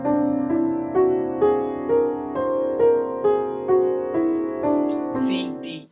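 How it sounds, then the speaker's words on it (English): C whole tone scale played ascending, one clear note at a time in an even rhythm, each tone sustaining briefly before the next, with a short voice entering at the end. "The C whole tone scale goes up whole steps the whole way up, which sounds like this."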